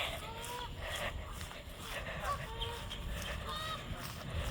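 Canada geese honk at a lake in a residential neighborhood, a scattered flock calling repeatedly at middle distance over a constant low rumble.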